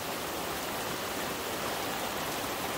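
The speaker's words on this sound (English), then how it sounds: "We're gonna sit here and let this rain pass." Steady rain pours down at a farm, a dense, even hiss with no breaks, close and moderately loud, no voices over it.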